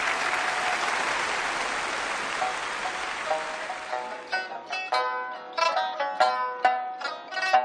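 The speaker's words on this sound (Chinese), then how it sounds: "还是评弹学堂的老师孙小梅，掌声有请。" An audience applauds at a Suzhou Pingtan storytelling performance, a dense wash of clapping that fades into scattered, uneven claps with musical plucked notes emerging over it.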